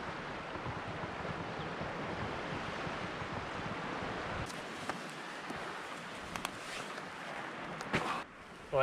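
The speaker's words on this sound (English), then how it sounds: "Massive ocean on the other side of you." Ocean surf rolls steadily along the rocky Cutler Coast, a continuous broad wash of waves with wind buffeting the microphone and a few brief rustles near the end.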